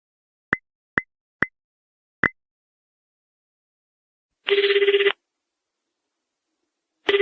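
Four quick keypad beeps, then two bursts of a telephone ringback tone as a call goes out to the 123 power outage report line in a VR safety simulation. The sounds are clean and close, with silence between them.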